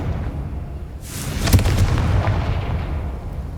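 A Confringo fire spell from Hogwarts Legacy hits with a sudden loud blast and a crackling burst, then a rumbling tail that fades slowly over steady background noise.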